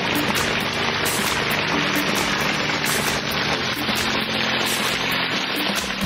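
Water splashes steadily into a pond, a constant rain-like patter with a faint low hum underneath.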